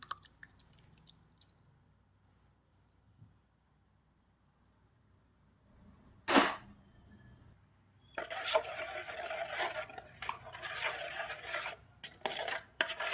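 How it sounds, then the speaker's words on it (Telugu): A spoon stirs tempering into a large batch of tomato pickle, giving soft rasping scrapes against the pot. A single sharp clink comes first after near silence, then steady, fairly faint mixing sounds continue. "ఈ పోపును ఇందులో వేసి కలుపుతాను."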